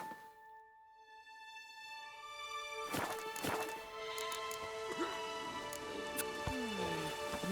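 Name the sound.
rain in video game The Witcher 3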